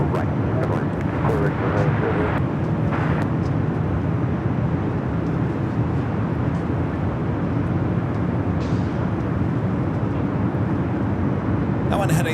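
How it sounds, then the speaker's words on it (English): A jet airliner at Los Angeles airport rumbles toward takeoff in a continuous broad roar, with faint voices heard over it now and then. "Another one heading down for takeoff."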